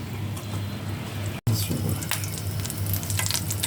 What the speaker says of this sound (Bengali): দেখুন আমি মাংসগুলো কীভাবে হালকা ব্রাউন কালার করে ভেজে নিয়েছি।